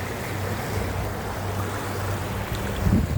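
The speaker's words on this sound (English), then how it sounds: "Gonna bring a little bit of wind today, which always makes it a little more challenging." Steady wind roars across the Yakima River on an autumn day, a broad continuous rush with low gusty buffeting on the microphone that swells slightly near the end.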